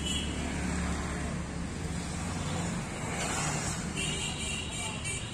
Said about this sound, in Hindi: रास्ते पे बहुत गाड़ी है